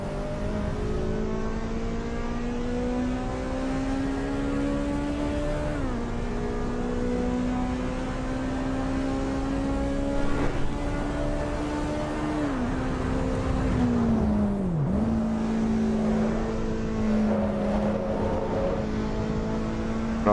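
A race car engine in the Assetto Corsa EVO racing game holds a long, steady drone, rising in pitch with each rev and dropping at gear changes. It sounds close and continuous throughout.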